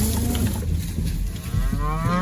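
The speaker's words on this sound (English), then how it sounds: "The cows have just been walking in front of me over and over." Cattle moo loudly and close by on a farm, with low drawn-out calls and a steady outdoor rumble underneath.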